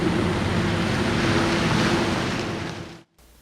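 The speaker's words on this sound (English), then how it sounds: "the water was turned on, and this thing started leaking immediately" Pressurized water forces its way past a concrete plug set firmly in a hole in a precast structure, giving a steady, loud broadband hiss and rush that holds almost three seconds before cutting off abruptly.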